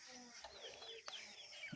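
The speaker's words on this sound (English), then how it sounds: "The chickens have come round scratching" Chickens scratching and clucking around trees outdoors in the Philippines, faint and distant, with soft calls and rustling against a low background and some quiet voices.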